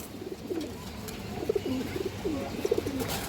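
A pair of jira-gola pigeons give soft, gurgling coos at close range, the calls growing busier and more frequent partway through with brief pauses between phrases.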